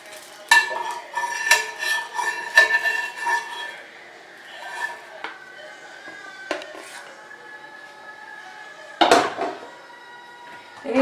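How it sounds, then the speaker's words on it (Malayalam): Neer dosa made from rice flour is moved into a casserole. A quick run of bright metallic clinks and scrapes of utensils gives way to sparser, isolated clatters and one louder clash near the end. "ഒരു കാസറോളിലേക്കാണ് ഞാൻ ഇപ്പം മാറ്റാൻ പോകുന്നത്."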